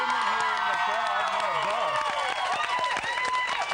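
A studio crowd of about fifty women cheers and claps loudly and continuously, with excited shouts rising over the noise.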